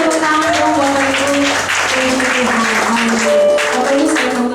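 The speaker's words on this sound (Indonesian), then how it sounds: "Boleh kasih tepuk tangan dong Bapak Ibu." A church congregation applauding during a sermon, a dense, steady patter of clapping across the hall beneath a preacher's amplified voice speaking over it.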